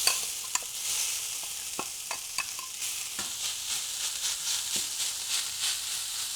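Vegan filling frying in olive oil in a non-stick pan, an even crackling sizzle with sharp utensil taps and stirring scrapes, close and moderately loud, no talk.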